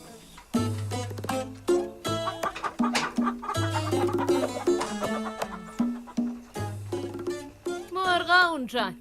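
Chickens cluck repeatedly in a farmyard, loud and close, mixed with people talking and other animal sounds throughout.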